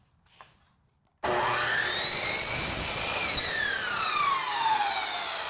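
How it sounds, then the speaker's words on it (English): A power saw set at 45 degrees bites into chair rail molding, starting abruptly with a sharp, loud whine that rises and falls as it cuts through. "we'll have our saw set at 45 degrees and just cut all the way through the molding"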